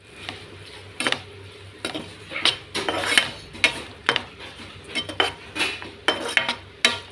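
A metal spoon stirs tempering into a ridge gourd curd chutney, making repeated close scraping clinks against the vessel in an irregular rhythm.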